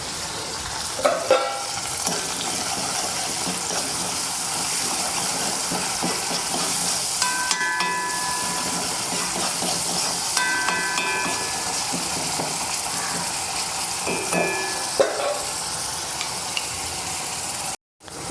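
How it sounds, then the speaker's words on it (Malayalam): Prawns frying in a pan with onions, cooking for a Kerala-style flat bean stir-fry, a steady hissing sizzle broken by occasional stirring clinks and scrapes, continuing without pause until it cuts off abruptly at the end. "ഒപ്പം തന്നെ ഒരു 3-4 ചെമ്മീൻ എടുത്തിട്ടുണ്ട്, അതും ഇട്ട് കൊടുക്കണതാണ് ഞാനിതിലേക്ക്"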